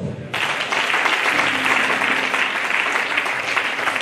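A congregation at a Christmas Eve church service breaks into loud, sustained applause for Jesus after a brief hush, with many hands clapping densely together.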